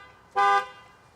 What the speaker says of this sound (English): Done sat on my alarm.